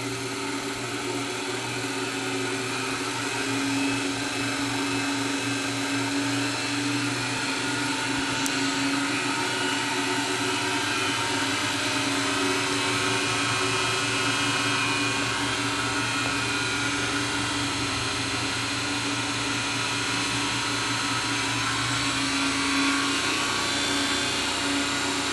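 A motor spins up toward about 2200 RPM in an experimental power-amplifying coil setup, giving a steady close whining hum with sustained tonal layers and no talk.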